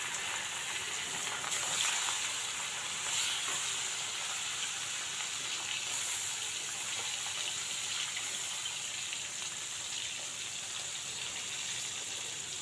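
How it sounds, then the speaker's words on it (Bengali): Bata fish frying in hot oil in a wok gives a steady, dense sizzle and hiss that carries on without a break, fairly close and even in loudness, with no voices over it. "ভালো করে মাছগুলো ভেজে নিয়েছি, মাছ ভাজা হয়ে গেছে।"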